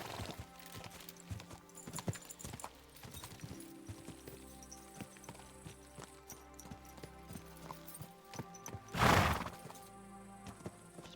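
Horse hooves clip-clop steadily in Kingdom Come: Deliverance II, with a horse neighing loudly near the end over the game's background sounds.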